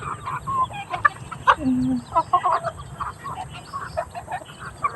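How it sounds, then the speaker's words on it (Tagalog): Several chickens cluck and squawk close by in a busy, irregular chorus, with one longer call standing out. "Ayan, daming manok mga kakariyang, no?"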